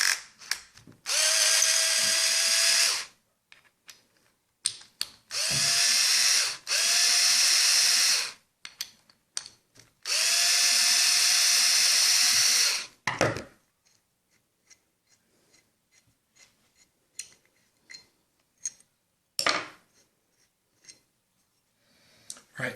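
A power tool whirs in three long, loud bursts while an adjustable motorcycle gear shift extension is taken apart, followed by scattered clicks, taps and rattles of parts and hand tools.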